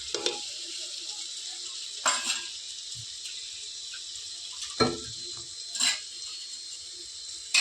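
Mixed vegetables sizzle in a pan with ginger-garlic paste and dry spices, giving a steady hiss broken by a few scattered knocks and scrapes of stirring.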